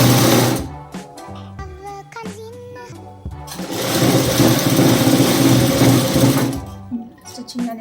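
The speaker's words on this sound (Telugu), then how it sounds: "ఇప్పుడు ఈ పట్టీ ఏదైతే ఉందో ఈ పట్టీ మీద కార్నర్కి స్టిచ్చింగ్ అనేది వేయాలి." A sewing machine stitches the corner of a blouse strip, its motor whirring in short bursts and then a longer steady run, close and loud, with rhythmic needle chatter throughout.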